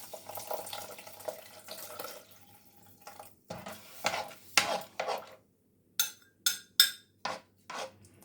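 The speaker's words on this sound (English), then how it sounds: "So I'm just going to pour this into my couscous." Hot water with stock cubes is poured from a container into a bowl of couscous in a home kitchen, giving a soft trickle and then several short, distinct splashes and drips, close and fairly quiet.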